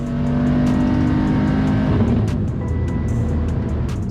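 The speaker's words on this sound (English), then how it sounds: "Ooh, car's running kind of rough." A big-turbo BMW F30 340i engine runs loud and uneven, its low drone wavering and stumbling over a few seconds with no voices.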